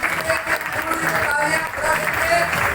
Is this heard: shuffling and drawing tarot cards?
no